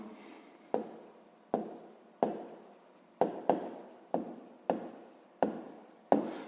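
A pen writes on paper as an answer is noted down for a sixth-grade maths exercise, making soft scratchy strokes in about nine separate bursts, each starting sharply and fading, close and quiet.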